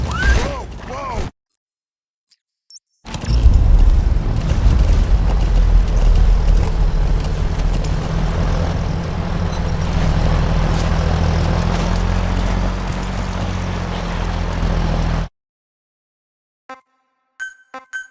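A helicopter flies in Metal Gear Solid 5: The Phantom Pain, a steady loud low rotor drone lasting about twelve seconds after a short gap, then cutting off to near silence.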